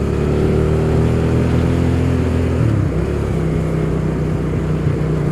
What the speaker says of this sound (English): I can feel my bike starting to chug